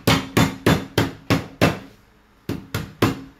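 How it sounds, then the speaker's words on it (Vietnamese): Lemongrass stalks being pounded flat for Thai hotpot, about nine sharp, loud, close thuds in an even rhythm with a short pause midway. "Sả thì mình đập dập"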